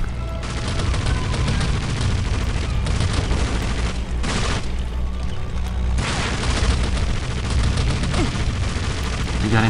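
MP40 submachine gun fire in the Indiana Jones and the Emperor's Tomb video game: sustained loud bursts of rapid shots and booms layered into continuous game action.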